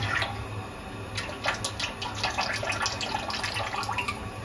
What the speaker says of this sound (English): if you just follow me, Megan, I'm just going to pour it straight back in.